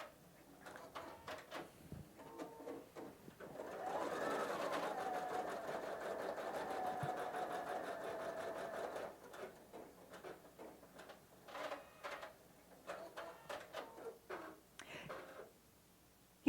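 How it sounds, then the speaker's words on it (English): Husqvarna Viking Brilliance 80 sewing machine stitches a basting box in an embroidery hoop, with a quiet run of ticking clicks, then about five seconds of steady mechanical whirring, then more intermittent clicks. "So let's just go ahead and stitch out the basting box and see how it does it."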